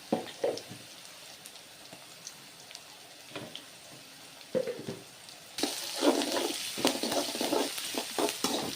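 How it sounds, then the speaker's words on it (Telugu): Onions, green chillies, salt and turmeric fry in a pan, heard as a soft sizzle with intermittent stirring scrapes. The sizzle grows louder and busier in the second half, and no one speaks. "ఉల్లిపాయ ముక్కలు, పచ్చిమిరపకాయలు, ఉప్పు, పసుపు వేసి మగ్గనివ్వాలండి."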